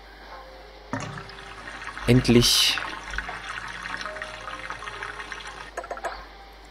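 Light rain and flowing water in the video game Botanicula, a steady soft watery wash with a gurgling burst near the start, heard under someone speaking German.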